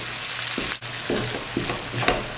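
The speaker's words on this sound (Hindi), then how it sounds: "अब हम अपने मसाले को अच्छी तरह भून लेंगे।" Masala for dhaba-style daal chana fry roasting in a pan, a dense continuous sizzle with a few soft stirring strokes breaking through, fairly close and steady.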